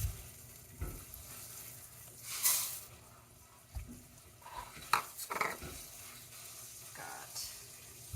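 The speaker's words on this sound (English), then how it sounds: "I usually like to toast my rice a little bit, so I'm going to go ahead and add the rice in now" Rice being stirred and toasted in a pan with butter, garlic and scallion, giving soft scraping stir strokes over a faint sizzle, with occasional utensil clinks against the pan at close range.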